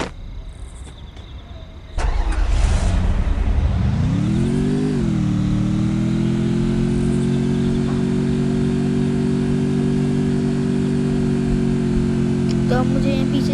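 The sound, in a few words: motorbike engine in Free Fire video game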